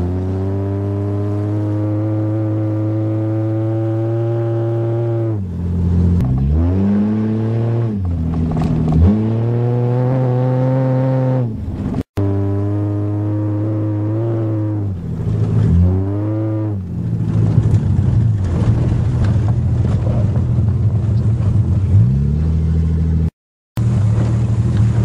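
A 1982 Toyota Cressida driving in the rain, its engine tone rising and falling through repeated gear changes and revs, heard from inside the car, steady and fairly loud with no talking.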